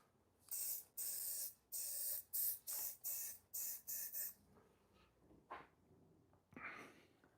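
Spray paint hisses onto a wooden board in a string of about eight short, loud bursts, each lasting under a second with brief gaps between them, followed by a few fainter handling noises and one last short spray near the end.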